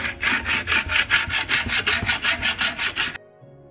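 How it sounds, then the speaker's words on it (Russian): A steel trowel polishes dried Venetian plaster on a wall in quick, even back-and-forth strokes, about a dozen rasping scrapes in a steady rhythm, close and loud, then stopping. "После высыхания штукатурки венецианской мы ее вот так вот кельмой заполируем."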